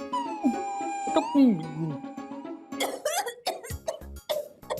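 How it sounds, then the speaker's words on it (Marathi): Close, harsh coughing in a short irregular series, preceded by strained, wavering vocal sounds. "ऐकू येतोय तुला खोकला"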